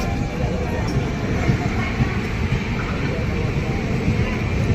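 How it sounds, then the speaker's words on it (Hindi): The Malwa Express passes on an Indian rail line, heard as a loud, steady low rumble and rattle of wheels and carriages, continuous and close with no breaks. "भाई सामने से मालवा एक्सप्रेस निकल रही है।"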